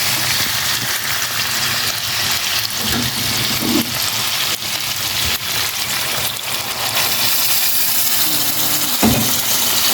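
Water pours steadily into a cooking pot of taro, a continuous broadband splashing and rushing that runs the whole time, close and fairly loud, with faint clinks underneath.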